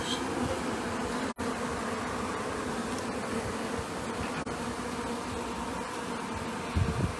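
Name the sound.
honey bees buzzing during chimney extraction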